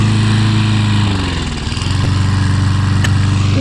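A Mountfield M4 lawn mower runs close by with a steady, loud, buzzing engine drone that dips briefly in pitch before settling back to an even hum.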